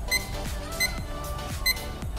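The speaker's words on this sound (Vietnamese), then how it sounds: "nó sẽ reo cái chuông báo thức" A RITERS RTS-308 thermometer-hygrometer clock sounds its alarm: three short bursts of bright high beeping, evenly spaced about 0.8 seconds apart, over a low steady background hum.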